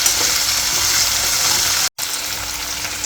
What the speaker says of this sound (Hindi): तो अब ये जो कैरी है ये भी डाल देते हैं, थोड़े बारीक बारीक टुकड़े कर दिए।